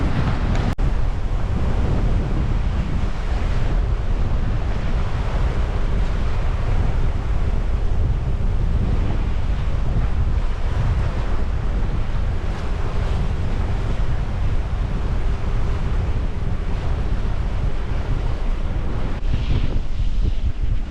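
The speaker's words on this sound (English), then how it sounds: "we still got some strong gusts" Strong wind buffets a solo sailboat in Force 8 gusts on the Sound of Jura, with constant loud roaring wind noise on the microphone and crashing waves throughout.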